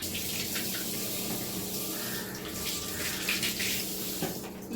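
Lemons being rinsed under a running tap, a steady broad wash of flowing water with faint splashes throughout, no talk.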